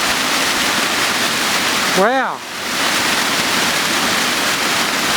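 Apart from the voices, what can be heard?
Barry Falls main waterfall rushing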